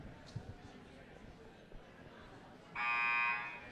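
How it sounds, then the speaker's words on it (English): A loud electronic buzzer blares for about a second at the end, following quiet arena background with faint bouncing and footsteps at a senior girls' basketball game. "So there's the buzzer that says it is"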